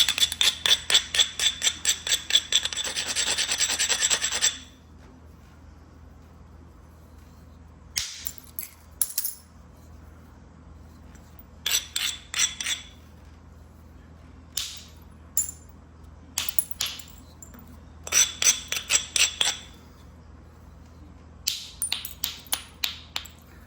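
Small flakes are knapped off a stone edge with a downsized bopper by direct percussion: rapid runs of sharp, glassy clicks and taps in bursts, a long run at the start and then shorter clusters separated by quiet gaps.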